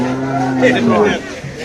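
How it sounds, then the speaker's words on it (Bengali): Cattle lowing at a busy Eid sacrificial animal market at Joragate in Khulna, one drawn-out moo rising and falling over about a second and a half, close and loud against a background of crowd murmur. "এখানে কিছু ছোট গরু দেখা যাচ্ছে"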